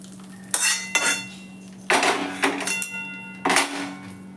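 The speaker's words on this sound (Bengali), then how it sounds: "গরম সর্ষের তেলটা দিয়ে মিক্স করে নেব।" Mango pickle gets mixed with hot mustard oil in a metal bowl, giving several sharp scraping and clanking strokes of a spoon against metal in uneven bursts, close and clear, with quiet pauses between them and no one speaking.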